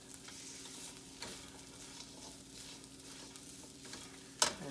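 Chickpeas toast in a pan for curried sundal, giving a faint steady sizzle with soft scraping stirs and a sharper clink near the end, close and quiet.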